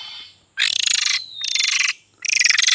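Local oriental magpie-robin (Kacer), a half-white, half-black songbird, calling close by in three loud, rapid trilling bursts of high, buzzy chatter separated by short pauses, with no voices.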